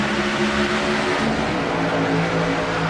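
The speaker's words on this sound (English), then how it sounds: "Marcus Richardson on that loud pedal" A NASCAR Xfinity race car engine in a video game at Bristol roars at high revs, a steady buzzing drone that shifts pitch slightly as it accelerates, loud and close.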